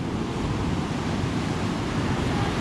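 Sea waves at Patong beach in Phuket, a continuous loud wash of surf with wind rumbling against the microphone, steady throughout and with no talk.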